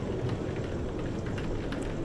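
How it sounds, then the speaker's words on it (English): Wind and rain form a steady, low-level wash of noise. A dense rumbling hiss carries faint scattered drop patters, with no voices. "Can hear the wind and the rain."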